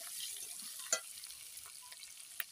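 Green chillies frying in a pan and being stirred, a soft, fairly faint sizzle with a couple of sharp utensil taps against the pan.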